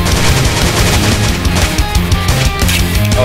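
Heavy, rapid shotgun fire from the Slendytubbies 2D Revolution video game, loud and continuous with repeated punchy blasts stacked close together and no talking.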